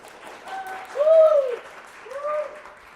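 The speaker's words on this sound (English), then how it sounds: "give me a round of applause" A fringe theater audience cheers with rising and falling 'woo' shouts over light applause, with two main swells of voices, one louder and one softer.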